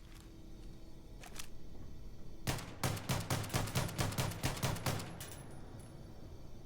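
A Starfield G17x sidearm mod fires with M1911-style sound effects: two isolated shots, then a rapid run of about a dozen sharp, evenly spaced reports, loud and close, ending with a couple of stray clicks.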